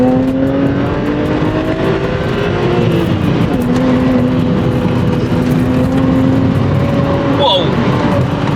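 Engine of a BMW 1M driven hard with its back end stepping out, a loud continuous drone whose pitch rises and shifts, heard from inside the car with people talking over it.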